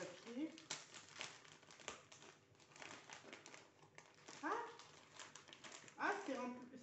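Paper crinkles and rustles in bursts as a parcel wrapped in paper is opened indoors, with short vocal or whimper-like sounds and a few handling noises around it.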